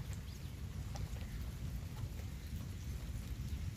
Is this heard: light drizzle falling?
yes